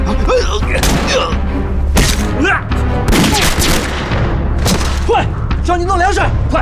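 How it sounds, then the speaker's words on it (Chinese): A Japanese ammunition depot is blown up in wartime drama fighting, with loud close blasts and bursts of rapid gunfire layered over a low rumble, while raised voices shout throughout. "把鬼子弹药库给炸了"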